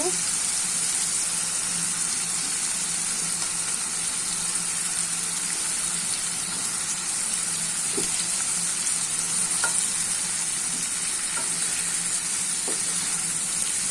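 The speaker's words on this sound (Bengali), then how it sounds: "মশলাটাকে আমি বেশ কিছুক্ষণ কষিয়ে নিয়েছি। এখন আমি মাছগুলো দিয়ে দিব।" Koi fish pieces added to a fried onion masala crackle in a strong, continuous sizzle close to the pan, with faint stirring clicks scattered through the steady hiss.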